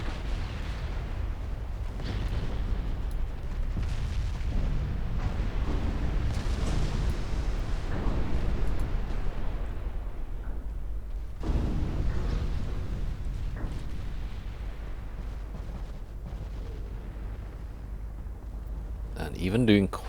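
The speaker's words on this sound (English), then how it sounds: "My battlecruisers are hitting them though. Lots with their big guns." Battlecruiser big guns firing during a naval battle in the Ultimate Admiral Dreadnoughts video game, a run of deep booming salvos and rumbling blasts, loud and continuous, under a voice.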